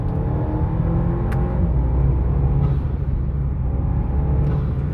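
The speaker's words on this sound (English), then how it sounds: "I'm just gonna drive around a little bit." A 2017 Audi A4 B9 with a stage 1 tune and cold air intake drives along, its steady loud engine drone and road rumble continuing without break from the cabin.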